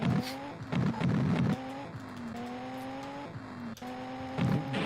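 An in-game car in the racing-style video game Techno Cop spins out, its engine droning with repeated rising pitch sweeps and bursts of harsh noise over about five seconds.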